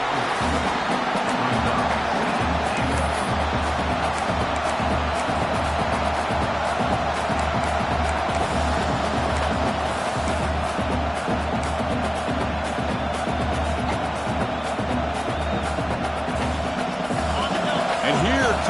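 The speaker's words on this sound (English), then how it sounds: "The noise. This crowd is trying to inspire this defense to make a big red zone stop." A dense, constant roar of a large stadium crowd in a football video game fills the background beneath continuous play-by-play commentary.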